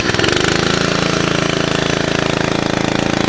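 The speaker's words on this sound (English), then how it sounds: "nice steady pull on the engine" A Billy Goat sod cutter's small engine runs with a steady, even, fast-pulsing drone that stays constant and loud throughout, with no voices.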